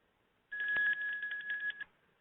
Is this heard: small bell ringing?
yes